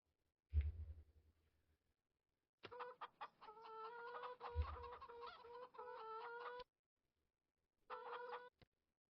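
Chickens in Farming Simulator 25 cluck in short repeated bursts, bright and clean, with a couple of low thumps and brief pauses between the clucking runs.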